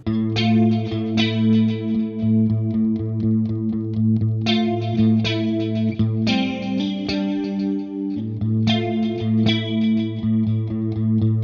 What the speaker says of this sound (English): Song kicks off with that clean tone riff, and it features a couple of staples of the 80s, a static bass note and some moving chord dyads on top.